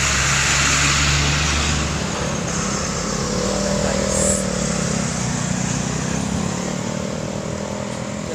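A motorized tricycle idles and runs on a street, a steady loud engine drone with a rough low rumble that stays constant throughout, surrounded by general roadside noise.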